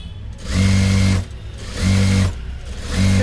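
A sewing machine topstitches a size-30 katori blouse in three short bursts of steady whirring hum separated by brief pauses, loud and close.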